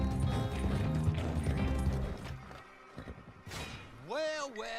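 Horse hooves clip-clopping in the video game Red Dead Redemption 2, a rhythmic run of close hoofbeats with mechanical clatter, fading before a horse's whinny near the end, with someone talking over it.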